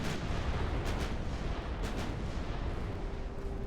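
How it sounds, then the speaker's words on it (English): A torpedo strikes a battleship in the naval game Ultimate Admiral: Dreadnoughts, with dense, continuous rumbling booms and a few sharper blasts layered over a loud, sustained roar of battle. "Another torpedo hit."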